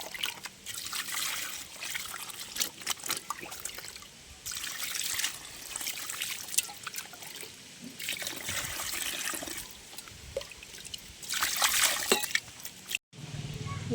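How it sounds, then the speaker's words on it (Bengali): Water is poured onto dried, powdered pond soil in a container for planting a lotus, giving an uneven trickling and sloshing stream that swells and fades in close bursts with a brief cut near the end. "এরপর এটাকে জল দিয়ে দেব।"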